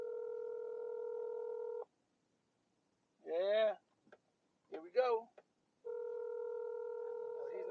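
A phone call placed on speakerphone: a steady dial tone plays, cuts off, then ringback returns later, with someone talking in the gaps between.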